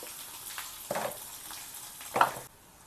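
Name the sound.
garlic frying in pan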